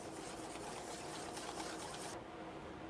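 Egg yolks and whole eggs being whisked in a bowl for a chocolate dessert base, giving a steady, continuous scraping rush that runs unbroken for a few seconds with no talk.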